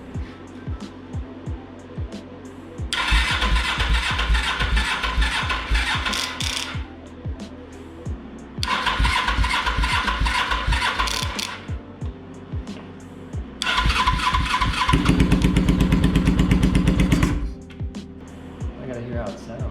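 Custom Suzuki GS500 cafe racer motorcycle with a new exhaust being cranked for its first start: three loud, rapid, chattering bursts separated by pauses, the last one catching into a deeper running rumble.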